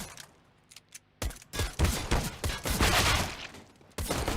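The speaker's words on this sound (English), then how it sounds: "It's going to be Patsi with a good headshot." Gunfire in a Counter-Strike match on Dust2 during a pistol round, with a few sparse shots followed by dense rapid bursts of shooting that build into loud, continuous exchanges.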